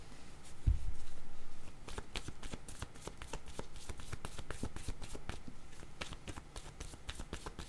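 Tarot cards are shuffled by hand in a quiet room: a steady run of crisp, rapid riffling flicks and slaps, close and distinct, lasting throughout with no talking.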